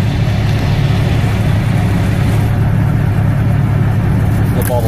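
The engine of a 2010 Kenworth T800 truck idles loud and close, a constant low rumble that stays even from start to finish with no talking.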